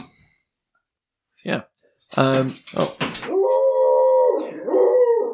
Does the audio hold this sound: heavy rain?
no